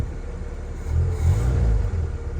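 A Honda car engine idles with a low steady rumble, swelling briefly louder in the middle as if lightly revved before settling back, close by with no talking.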